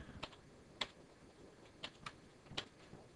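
Keys on a computer keyboard are tapped in a few sparse, quiet clicks spaced irregularly over a few seconds, with a faint background hum.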